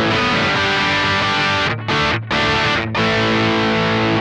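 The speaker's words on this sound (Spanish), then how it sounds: "Le damos al switch de saturación." Electric guitar through a Synergy Friedman BE Deluxe amp with its saturation switch engaged, playing loud, thick distorted chords that ring out, with two brief stops cutting the sustain before it resumes.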